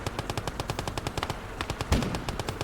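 A Dushka heavy machine gun fires in rapid, steady bursts during a battle, the rattling shots coming thick and close together, with a heavier thump near the end.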